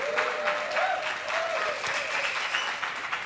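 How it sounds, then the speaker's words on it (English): Steady audience applause from a church congregation welcoming first-time guests, continuous clapping throughout with faint tonal sounds beneath. "Applause for our first-time guests."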